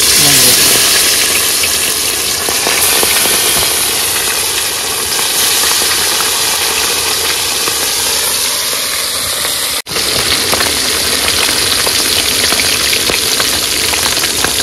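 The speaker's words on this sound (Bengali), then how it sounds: "পাঁচশো মাছ ভাজা কিন্তু হয়ে গেছে" Whole fish frying in hot oil in a large pan at a riverside Sundarbans cooking spot, a loud, steady, dense sizzle running throughout with a brief dropout near the end.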